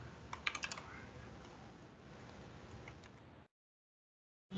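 Rapid clicking keystrokes on a computer keyboard while coding, a brisk burst of taps up front then steadier typing for about three seconds before silence.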